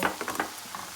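Onion, pepper and green onions stirred in a pot for pigeon pea and chicken stew, a brief run of soft scrapes and light clinks of a utensil, close and quiet.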